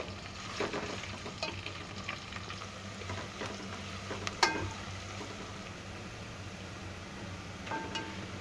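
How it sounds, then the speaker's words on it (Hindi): Onions fry with spices in a pan for a vegetable wheat-and-lentil khichda, giving a steady, moderate sizzle with scattered stirring clicks and scrapes and no talking. "अब हम इसमें शामिल करेंगे प्याज। प्याज को हम फ्राई कर लेंगे।"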